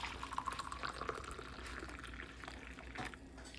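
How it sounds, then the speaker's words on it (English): Coffee poured into a cup at a home kitchen table, a soft, steady liquid trickle running for a few seconds at moderate distance, faint and alone with no talking. "might as well pour the coffee."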